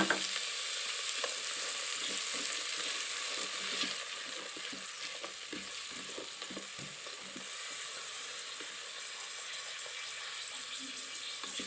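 Onion and garlic sizzling in hot oil with cumin seeds for a pea-leaf (motor shak) stir-fry: a constant bright hiss with light scraping as the pan is stirred.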